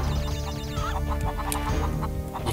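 Chickens in Crash Bandicoot 3: Warped cluck in short repeated bursts over steady game music and effects, with no talking.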